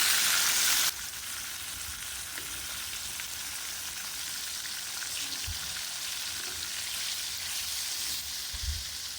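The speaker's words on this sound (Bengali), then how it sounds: "মাছগুলোকে উল্টে পাল্টে খুব সুন্দর করে ভেজে নেব" Pieces of tilapia fry in hot oil in a pan, giving a steady, close sizzle that runs the whole time, with a few soft pops and stirring knocks.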